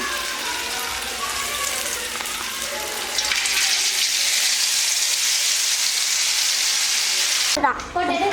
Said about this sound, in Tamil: நம்ம நெத்திலி வந்து நல்லா மசால் போட்டு வச்சுருக்கோம் இதை வந்து நம்ம ஃப்ரை பண்ணி எடுத்துக்கலாம்